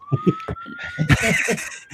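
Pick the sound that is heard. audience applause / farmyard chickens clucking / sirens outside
sirens outside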